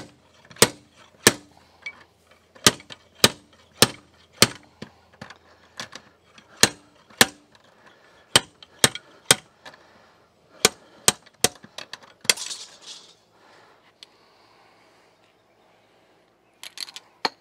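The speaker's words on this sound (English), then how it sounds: "Now we're using a giant slide hammer to get this thing moving." Sharp metallic strikes repeat in quick bursts of two or three, a large slide hammer banging on a stuck part of a Mercruiser 120hp boat engine, followed by a brief scrape and a couple of final knocks.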